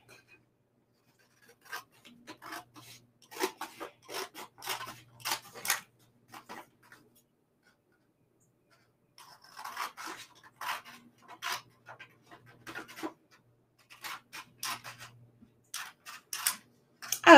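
Scissors snipping through paper in short, close, crisp bursts of rapid clicks and rasps, one run of cuts, a pause of a couple of seconds, then a second run of cuts, all without talk.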